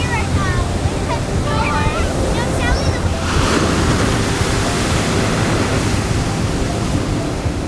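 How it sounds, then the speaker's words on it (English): Big, intense ocean waves break on the shore in a loud, continuous roar of surf and wind, close by, with voices faintly heard over the crash. "Those waves are big. These waves are intense."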